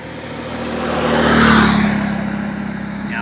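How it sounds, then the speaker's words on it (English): A motorbike engine swells as it approaches and passes close by on a road in Wales, then fades, over steady low road rumble. "there's a motorbike coming."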